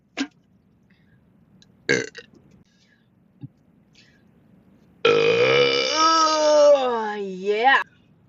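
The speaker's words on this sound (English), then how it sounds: "it's like 4 in the morning and I'm belching this loud" A few short throaty burps open, then one long, loud, drawn-out belch with wavering pitch lasts nearly three seconds before cutting off into quiet.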